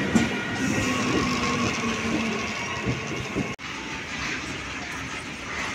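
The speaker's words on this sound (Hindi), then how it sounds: "ट्रेन आसुची ट्रेन आसुची" A passenger train arrives with a steady low rumble and rolling clatter of wheels, a continuous moderately loud drone with a faint tonal whine, heard without talk.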